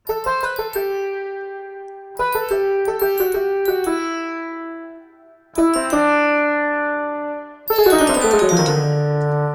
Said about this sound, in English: right here with the sitar, I'm doubling the melody with the meditation chimes